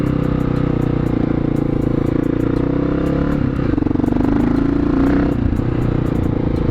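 A 2008 Honda XR650L big single motorcycle being ridden, its engine a loud, steady close-up thumping drone that shifts pitch as the rider eases off and turns, with some rattling clatter.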